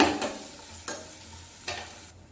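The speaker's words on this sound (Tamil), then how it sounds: "வெங்காயத்தை நல்லா வதக்கிக்கோங்க." Chopped onion and green chili sauté in a pan, hissing steadily while three distinct spatula scrapes sweep through, close by with no talking.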